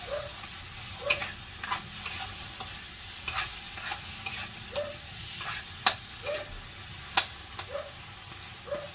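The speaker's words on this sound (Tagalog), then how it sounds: "Tapos, sibuyas. Yan, mahalo na natin lahat." Onion and garlic sautéing in a pan, a soft continuous sizzle broken by repeated spatula scrapes and taps at an irregular, unhurried rhythm, close and clear with no talk.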